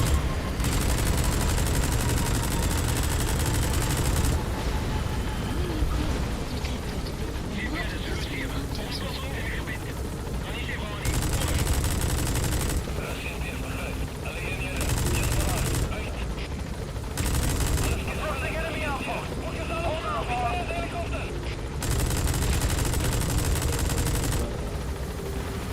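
Rapid automatic gunfire from the video game Metal Gear Solid 5, loud and sustained in dense bursts with brief gaps, mixed with game effects and a voice talking over it.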